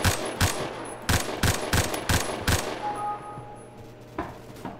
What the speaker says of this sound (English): Can I shoot you?